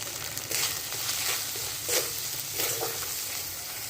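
Spices with turmeric being stir-fried in a pan for a Bengali banana-flower and mung dal dish: a continuous sizzle broken by a few louder scraping stirs, with no voices.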